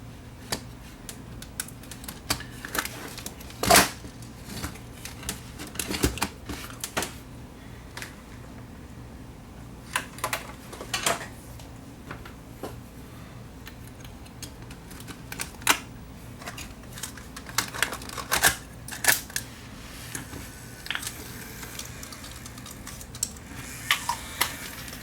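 The tape mechanism of a Canon ES600 camcorder runs with faint, irregular mechanical clicks and ticks over a low steady hum, close and quiet, with no talking.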